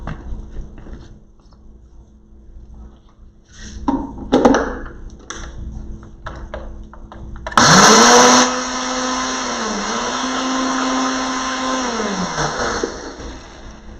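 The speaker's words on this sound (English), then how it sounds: "you are going to put it in your blender, and you're going to blend this up first." Blender grinding half a cup of oats into oat flour: some clattering and handling first, then a loud, steady motor whine that holds for about five seconds, dips once, and cuts off.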